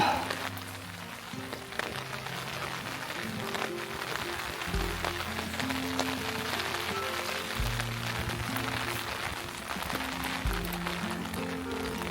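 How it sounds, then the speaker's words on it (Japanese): Rain falls over a medieval hill town in southwestern France, a steady pattering hiss with scattered drops close by, while low rumbling background sounds come and go underneath. "これは山だけなのか、それとも町の方も雨が降ってるのか。"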